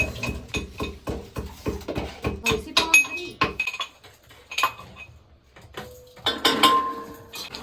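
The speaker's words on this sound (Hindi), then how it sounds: "ईसु चावल धुल रहा है" Rice being washed in a vessel at home: metallic clinks and knocks of the pot, clustered clattering bursts with pauses, and a voice speaking between them.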